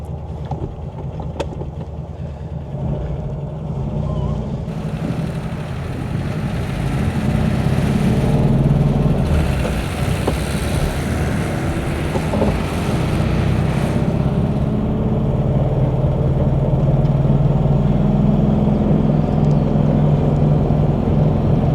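A 1968 Porsche 911 Coupe built as a wide body RS tribute pulls away. Its engine rumbles steadily throughout and swells louder midway as the car moves off, with no voices over it.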